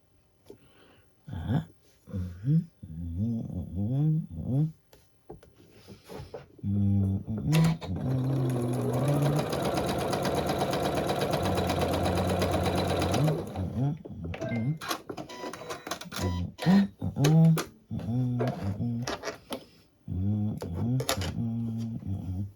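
A sewing machine that needs servicing stitches a quilted poinsettia runner, running in one loud sustained burst with a few shorter runs around it. A person talks intermittently before and after the stitching.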